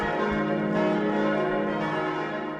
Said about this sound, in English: As bells ring through a city in shock